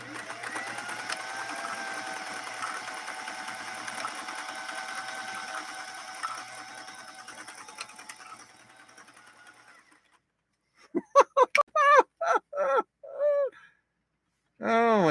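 A 1960s Singer 503A sewing machine stitches steadily with a harpoon needle for about ten seconds, a close, continuous whirring drone, then stops and a few short bursts of talk follow.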